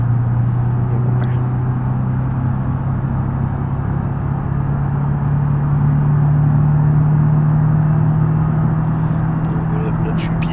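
A car engine held at full throttle in a career-mode driving video game, a steady loud droning hum whose pitch climbs very slowly, running the whole time beneath a voice talking over it.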